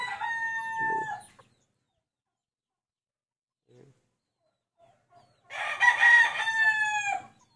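A good-breed brood cock rooster crows twice, near and clear, a long crow at the start and another after several seconds of near silence.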